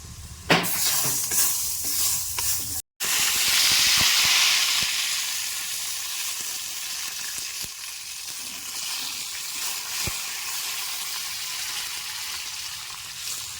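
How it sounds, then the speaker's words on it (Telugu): Curd chillies drop into hot tempering oil for mango dal with a loud burst of sizzling, which eases into a steady close hiss with a few scraping stirs. "నేను పెరుగు మిరపకాయలు ఉంటే తాలింపులో వేస్తున్నా"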